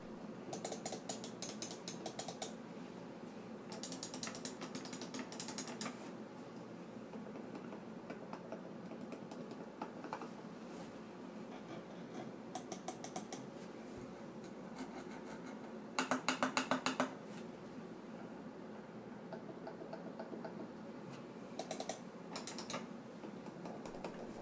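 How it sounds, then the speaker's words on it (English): Muted button clicks from a Logitech M331 Silent Plus wireless mouse, soft dull ticks repeated in small bursts close up with long quiet gaps between them, no talking. "the headline feature of the M331 Silent Plus would be its super silent button clicks"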